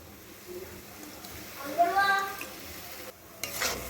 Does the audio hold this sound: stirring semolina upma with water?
yes